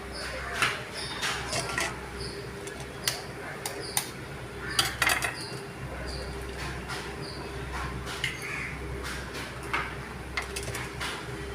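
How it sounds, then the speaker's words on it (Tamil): Eggs scrambled in a pan for Tamil egg podimas over a lowered flame, heard as scattered clinks and scrapes of a spatula against the pan over a faint background hum, with irregular taps of varying loudness. "முட்டையை போட்டு நல்லா வதக்கணும், நல்லா கிளறி விடணும்."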